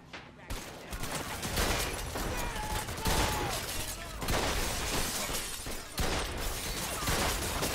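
Many guns firing at once in a Mafia II gunfight, dense bursts and cracks layered continuously and loudly over several seconds, with a raised voice shouting over the shooting.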